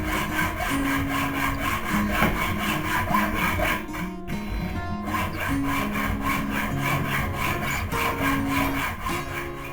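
A hand saw cutting a piece off a steel file being made into a knife, a steady, loud, close rasping stroke rhythm that pauses briefly partway through, then resumes.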